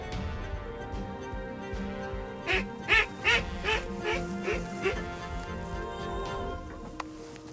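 Ducks quack during a duck hunt, giving a loud run of rhythmic, pulsing quacks in the middle over a constant outdoor background.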